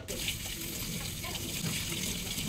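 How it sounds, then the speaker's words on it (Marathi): Fenugreek greens are washed in water with a continuous close splashing and rushing of running water, and a voice is faintly present at times. "तर आता मस्त अशी भाजी धुवून घेऊयात।"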